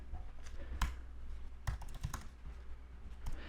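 Someone presses a few computer keyboard keys one at a time, giving sparse, irregular clicks and taps close by over a low steady hum with no talking.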